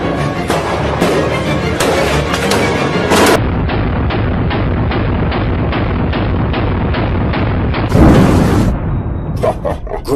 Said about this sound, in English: Great shooting, Nisu.